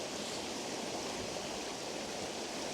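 A small waterfall in Alva Glen, Scotland, rushes steadily close by, a dense continuous splashing roar with no voices over it.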